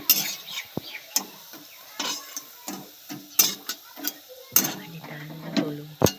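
Fried bitter gourd leaf fritters are lifted out of a pan, with light metal scrapes, taps and clinks of a utensil against the pan, close and intermittent, with occasional faint sizzle.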